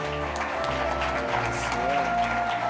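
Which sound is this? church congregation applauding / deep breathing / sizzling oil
church congregation applauding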